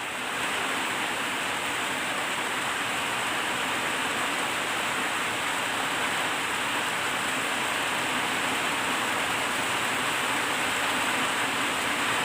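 Steady rain falls on a dark, overcast day at home, a dense unbroken hiss that holds at an even, fairly loud level throughout, with no voices.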